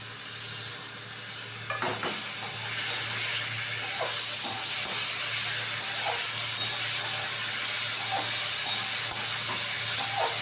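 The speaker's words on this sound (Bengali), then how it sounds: "এরপরে আমি দিয়ে দেবো এতে টমেটো পিউরিটা" Tomato puree frying in a pan, a steady bright sizzle and hiss throughout, with occasional scraping stirs and small pops from the spatula, close and fairly soft, no talking.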